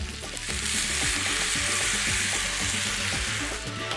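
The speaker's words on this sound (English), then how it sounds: "Give the rice a stir and let it cook." Rice cooking in a pan with dry white wine and vegetable stock for a vegetarian paella, giving a loud, steady bubbling sizzle with stirring clatter close by, no talking.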